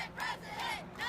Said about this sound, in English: Here's a Snapchatter at the protest, catching the chant, "Not my president."